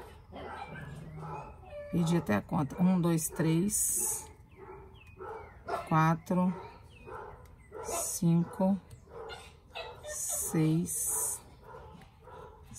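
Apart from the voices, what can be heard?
dogs barking at people in the street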